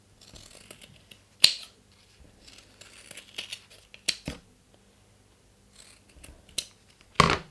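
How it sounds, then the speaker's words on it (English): Scissors trimming the corners of a fabric seam allowance on a small sewn pouch: a few sharp, close snips separated by pauses, with faint rustling of cloth between cuts. "I'm going to trim the bottom as well. Cut my corners."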